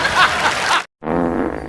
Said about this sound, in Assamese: মোৰটো পাদে বাহিৰ হৈ গৈছে